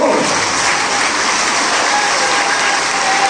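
Loud, sustained applause from an audience fills the whole moment, a dense steady roar of clapping hands.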